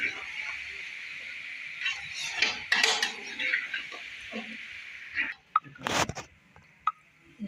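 Vegetables and capsicum are stirred together in a pot, with metal spoon clinks and scraping against the pot in irregular bursts, a few sharper knocks toward the end, all fairly quiet and close.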